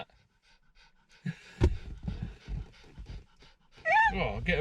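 A dog pants heavily and rapidly close by, with quick breathy puffs and a small whine, while a person talks over it.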